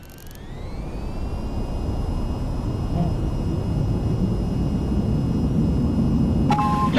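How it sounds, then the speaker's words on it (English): Aircraft accelerating down the runway for takeoff in the VTOL VR video game, a steady loud jet engine roar with high whining tones that rise and then hold, ending in a brief electronic beeping. "Now to take off, raise the throttle to full and steer to keep aligned with the runway."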